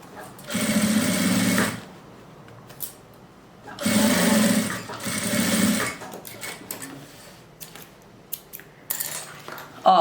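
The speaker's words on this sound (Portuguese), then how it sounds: "Vai costurando com calma." A sewing machine runs in three steady stitching bursts while sewing a fabric suitcase, with quiet handling noises and small clicks between runs.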